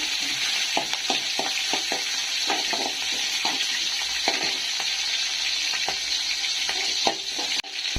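Garlic cloves and onions fry in a pan with a continuous sizzle, punctuated by repeated scraping and stirring knocks, close and clear with no talking.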